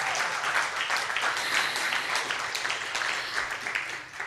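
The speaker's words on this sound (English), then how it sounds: "must be clapping after that" Audience clapping steadily throughout at a gaming hackathon event, a dense, sustained wash of many hands at moderate level, fairly close, with no talk over it.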